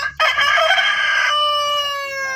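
Free-range village chicken crowing loudly and close, one long cock-a-doodle-doo call that holds steady before a sustained tonal tail, heard alone without talk.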